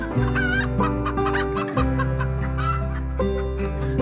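Chickens in a small backyard chicken house cluck and cackle close by in a busy, overlapping chorus that continues without pause, over a constant low hum.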